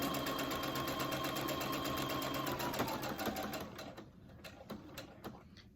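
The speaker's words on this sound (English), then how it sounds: "now I'm going to stitch halfway again, because remember, I need to leave a hole" A sewing machine stitches a fabric mask with a rapid, even mechanical rhythm, close and steady, then slows and stops into a few softer clicks and handling sounds.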